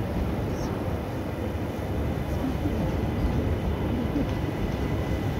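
A British Rail Class 397 train pulls out of Glasgow Central, giving a continuous loud, low rumbling drone that stays steady throughout.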